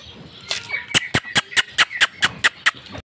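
A turkey gobbles at close range, a rapid series of about ten sharp, evenly spaced calls after a brief lead-in, loud and alone.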